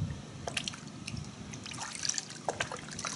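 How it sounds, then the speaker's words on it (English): Car wash soap, a citrus wash and gloss concentrate, is poured into a bucket of water, giving a steady soft trickle and splashy dribbling with scattered drips, close and continuous. "When we pour it into the water,"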